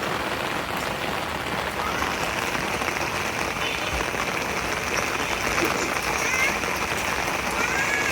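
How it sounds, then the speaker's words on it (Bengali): Light drizzle patters steadily on a rooftop garden in Dhaka, a soft continuous hiss of fine drops with occasional faint voices in the background. "আর এই ছাদ বাগানে গুড়ি গুড়ি বৃষ্টি পড়তেছে"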